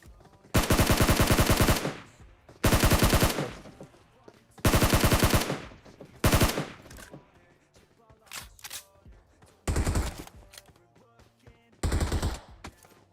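Automatic weapon fire in the mobile battle royale game PUBG Mobile comes in loud, rapid sustained bursts of about a second each, repeated several times with quieter clicks and shots in between.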